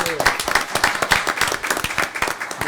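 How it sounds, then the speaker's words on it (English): A lively round of applause at a Citrus County Board of County Commissioners meeting in a chamber, with distinct close claps, steady and fairly loud, and faint talk mixed in. "I want to give you a round of applause"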